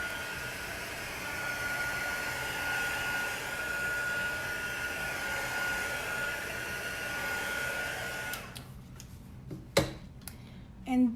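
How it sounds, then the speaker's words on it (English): A hair dryer blows steadily on a chalk craft piece, a constant close whoosh that cuts off near the end, followed by a few brief clicks and handling knocks. "I'm going to hit it with the dryer again real quick"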